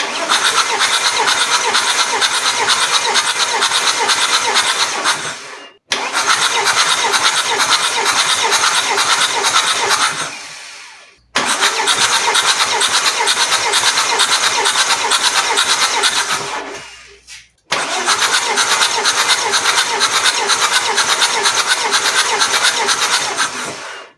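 An Alfa Romeo 156 1.9 JT common-rail diesel cranks without starting in four long, loud bursts of rapid rhythmic starter churning, each lasting about five seconds and separated by brief pauses.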